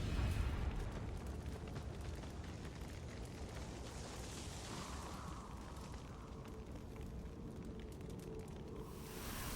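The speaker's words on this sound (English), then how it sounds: "Oh no, they set the swing set on fire!" Fire burning in MS Saga: A New Dawn, a swing set ablaze: a dense, steady roar with a heavy rumbling burst at the start, continuing unbroken at a constant level.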